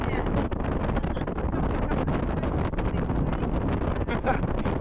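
Strong wind in an Argentine town known as one of the windiest places in the world batters the microphone with a constant, loud roar. Heavy buffeting gusts carry on without a break and bury any other sound.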